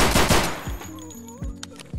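A pistol emptying its magazine in Escape from Tarkov, rapid loud shots in a burst followed by a few more spaced single shots with echoing tails.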